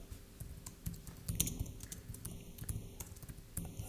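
Soft, sparse clicks from Ctrl and Shift keys pressed on a computer keyboard, quiet over a faint room hum with a few brief tonal beeps, no talking.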